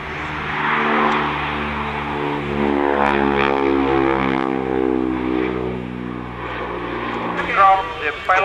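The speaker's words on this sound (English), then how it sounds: "The G222 takes off within 600 meters from the brake release" An Alenia G222 military transport from the Italian reparto sperimentale volo takes off, its propeller engines droning loud and steady with a rising then falling pitch, under an announcer's voice over a public address system.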